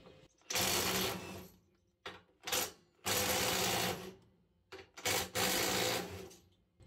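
A Metabo SSD18LTX200BL cordless impact driver breaks loose three bolts torqued to 250 Nm, giving several loud, rapid hammering bursts of one to two seconds each, separated by short pauses.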